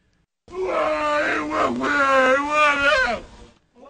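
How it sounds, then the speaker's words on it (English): A torture victim screams and groans in pain, letting out one long, loud, strained vocal cry that wavers and breaks for about three seconds before cutting off. "Screams of pain as the victim is brought to the brink"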